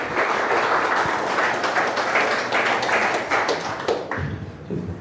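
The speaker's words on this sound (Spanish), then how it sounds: "Levanta un aplauso a ese Dios y buen Padre." A church congregation bursts into sustained, dense applause, many hands clapping together loudly and evenly for several seconds before thinning slightly at the end.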